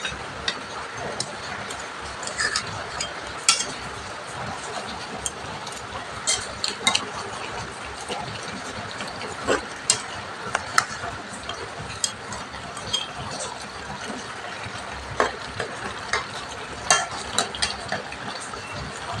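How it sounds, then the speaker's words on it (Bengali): Fish curry boils in a pot as fish go in on a rainy day, giving a steady bubbling sizzle with scattered small clicks and stirring taps, moderately close and with no talking. "এই যে আমার মাছের ঝোলটা ফুটে উঠেছে, এবার এর মধ্যে মাছ দিয়ে দিচ্ছি"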